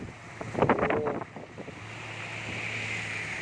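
Rain falling outdoors with strong gusting wind buffeting the microphone, a dense hiss under a short burst of voices and movement early on, then a steady wash of rain and wind.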